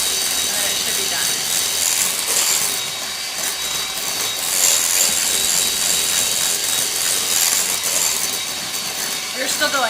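A Bosch stand mixer whipping cupcake frosting runs as a loud, steady high-pitched whir throughout, with a voice faintly present beneath it.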